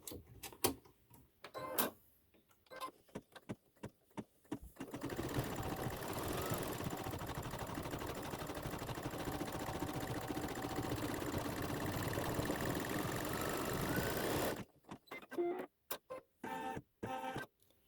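An embroidery machine sews a satin stitch onto a shirt sleeve, making a steady, even mechanical whirr and rattle for about ten seconds, framed by quieter, intermittent clicks before and after.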